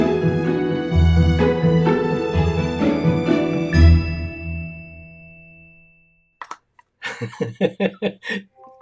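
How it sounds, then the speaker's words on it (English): A phone notification gives one brief, bright ding during a live chat show. It is heard near the end of background music and is followed by a few short percussive taps. "My phone just chimed."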